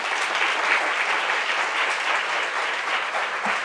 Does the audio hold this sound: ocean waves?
no